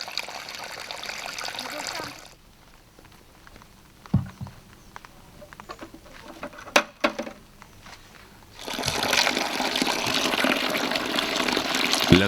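Water trickles and pours from the outlet tube of a Florentine flask during lavender distillation, faint and intermittent at first with small splashes, then swelling into a steady, louder gush at the end.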